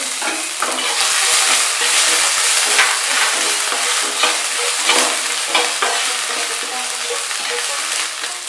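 Asafoetida, nigella seeds, carom seeds and chopped ginger frying in hot oil give a loud, steady crackling sizzle with brisk spattering pops, close up and with no voices.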